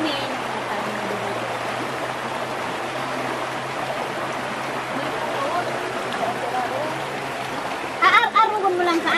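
Spring water welling up from underground flows steadily in a continuous broadband rush, with brief splashing near the end.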